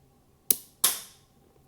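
Two sharp cracks from a mini EMBR-model Lego gun firing, about a third of a second apart, each with a bright snap and a short decaying tail, close and alone.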